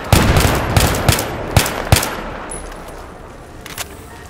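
Bursts of gunfire in a Battlefield 3 co-op firefight, a rapid string of sharp shots in the first two seconds, then a lull and a final single crack, loud and close with no speech.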